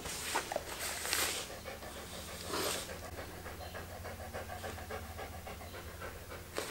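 Archie, a dog, pants in rapid, steady breaths close by, with a few louder huffs early on and no talking over it.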